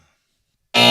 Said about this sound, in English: Supposed to be a wrong buzzer, like a game show